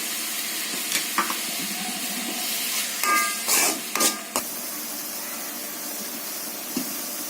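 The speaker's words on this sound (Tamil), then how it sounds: "நம்ம எடுத்து வச்சுக்க தக்காளி பேஸ்ட்டையும் போட்டு நல்லா வதக்கிக்கிறோம்" Coriander powder and tomato paste sauté in a pan for vegetable kurma, a steady moderate sizzle broken by a cluster of sharper stirring scrapes and spurts of hiss midway.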